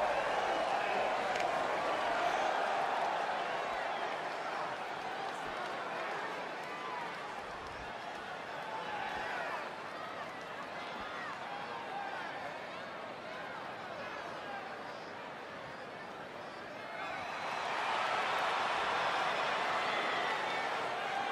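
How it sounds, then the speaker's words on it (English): Simulated arena crowd noise from the WWE 2K20 wrestling video game fills the whole stretch as a constant roar, dipping midway and swelling again near the end, with commentary voices talking over it. "Listen to this crowd, guys. They're fired up for this one."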